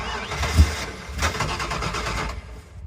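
Car parked since 1999 cranking and trying to start, with a sharp catch followed by rough, uneven engine bursts that sputter and fade out.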